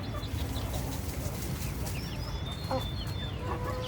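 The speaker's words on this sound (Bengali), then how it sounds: "আর এখানে হচ্ছে ঘরের কিছু মোরগ" Chickens and roosters kept on a house rooftop cluck and chatter close by in a busy, overlapping flock, with short calls scattered over a steady background.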